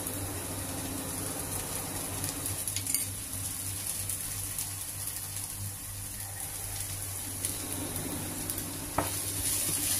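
Cabbage and potato curry with turmeric, chili and coriander powder fries in a pan, a constant close sizzle with occasional scrapes and clinks of a utensil stirring.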